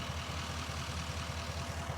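A cold John Deere 2640 tractor's diesel engine with a low, steady rumble close by, chugging unevenly in a continuous drone with no voices over it.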